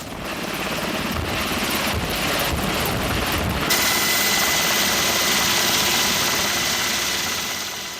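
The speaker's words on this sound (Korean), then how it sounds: "마침 훈련에 함께 참여하고 있던 다른 기동 헬기도 진화 작업에 뛰어들었다" A loud, close army helicopter fighting a mountain fire, with constant rotor thump and engine whine, droning steadily throughout with no voices.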